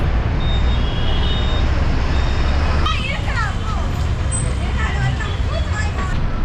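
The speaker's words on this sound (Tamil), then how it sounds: "பஸ் இப்போ நிற்க போகிறது" A city bus on route 104P rumbles steadily, then a hiss of air brakes releases as it slows to a halt at the Perambur railway station bus stop in Chennai, with traffic noise and chatter around.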